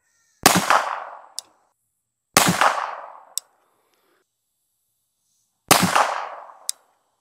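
Three loud supersonic bullet cracks, each a sharp outdoor report trailing into a rolling echo and ending in a short ping, spaced a few seconds apart at a sonic boom test.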